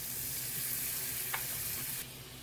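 Butter sizzles in a warm pan waiting for steak, a steady, quiet frying hiss with one brief bright tick partway through.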